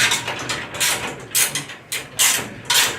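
Bolts being loosened on a ground switch operator give off a run of loud, close mechanical ratcheting bursts, several rapid clicking spells separated by brief pauses, with no talking.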